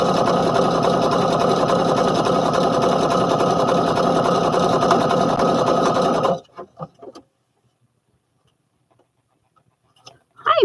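A sewing machine runs continuously, stitching overalls fabric with a fast, even mechanical whir for about six seconds, then stops abruptly, leaving a few faint clicks and near silence.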